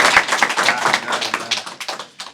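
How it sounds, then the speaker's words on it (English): A small audience claps for a speaker at a talk, a loose patter of individual hand claps that is loud at first and then thins out toward the end. "let's give a big round of applause to Vaisesika."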